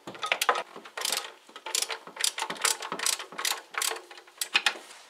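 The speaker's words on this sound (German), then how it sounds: "Wenn sie mal los ist, geht es auch hier mit der Ratsche weiter." A ratchet loosens bolts on the alternator of a Fiat/Ford 1.2-litre engine during timing belt work, producing rapid clicking pawl bursts in uneven runs, close and clear, with no voices.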